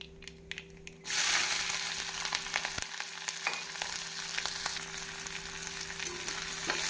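Chopped onions and green chilies hit hot oil with mustard seeds in a pan and start a loud, steady sizzle, with faint stirring scrapes and small crackles under it, close and without talk.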